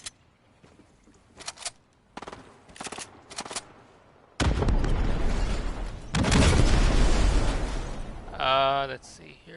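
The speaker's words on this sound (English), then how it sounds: "So what's this bot shooting at?" Bot gunfire in the video game Fortnite, sharp shots first in short separated bursts, then sustained loud rapid firing and blasts, with a brief voice near the end.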